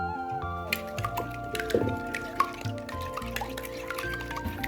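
Spices such as turmeric, coriander powder, deggi chilli and crushed black pepper are stirred into a wet batter, giving soft squelching and squishing sounds close by under background music.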